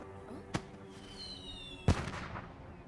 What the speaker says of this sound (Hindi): अब पटाखों से खेलना बंद करोगे?